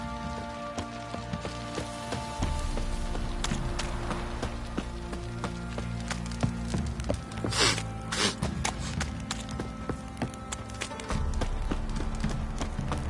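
Steady clip-clop of horse hooves in The Witcher 3 on PS5 over a constant rushing background, a continuous trotting rhythm lasting throughout, with no voices.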